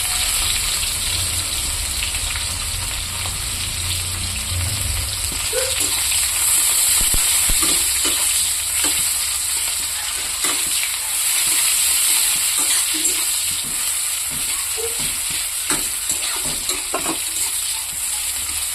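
Onions frying in a karai, a continuous bright sizzle with occasional stirring scrapes and clinks, steady and close throughout without talk.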